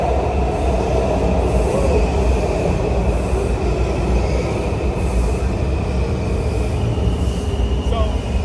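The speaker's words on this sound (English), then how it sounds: "the trains come very frequently through Metro Center." WMATA Red Line metro train rolling through Metro Center station, a loud, constant rumble of wheels on rail with high metallic squeals and hiss throughout, and faint voices underneath.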